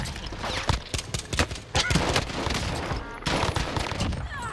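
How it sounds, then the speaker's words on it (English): A light machine gun firing in a video game: dense, continuous bursts of gunfire filling the whole stretch, with a brief lull partway through, and a voice talking under the shooting. "This light machine gun might be better."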